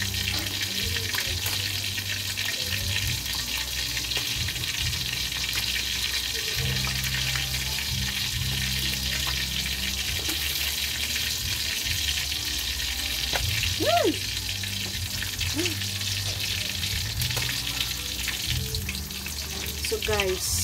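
Milkfish (bangus) frying in a pan of hot oil, a steady close crackling sizzle with spatters and pops running the whole time, no talk over it.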